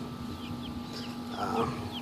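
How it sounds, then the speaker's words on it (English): A Buff Orpington chick and two Rhode Island Red chicks in a small coop make soft chirps and peeps at close range over a steady background hum. "It's a Buff Orpington and 2 Rhode Island Reds."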